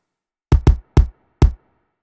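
Two kick drums layered together hit four times in a syncopated pattern, each thump punchy and slightly trashy with a brighter, rattly top, decaying quickly into silence.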